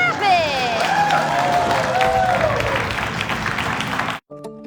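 Studio audience claps and cheers loudly during a talk show, a dense roar of applause with voices rising over it, cutting off abruptly near the end into a brief musical sting.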